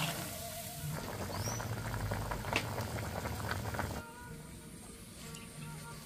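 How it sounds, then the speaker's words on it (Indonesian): Peanuts boiling in a pot of water for sayur asem, a steady close bubbling and gurgling that carries on throughout, briefly quieter and thinner toward the end. "Kita rebus sampai empuk ini ya."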